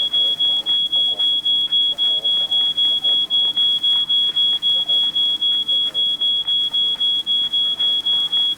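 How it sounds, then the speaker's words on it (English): A smoke alarm in the video game She Could Fly sounds after burnt toast, a steady high piercing tone pulsing in rapid, regular beeps throughout, loud and close, with faint voices and game sounds underneath. "We need to do something about that alarm."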